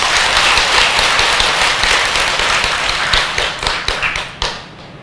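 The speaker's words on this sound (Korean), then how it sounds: "합창단에도 박수 한번 보내주세요." A temple congregation claps for the choir at a Buddhist Baekjung closing dharma service, a dense round of close, sharp handclaps that holds steady and then thins out and fades to silence near the end.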